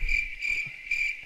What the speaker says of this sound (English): Here's an awkward cricket.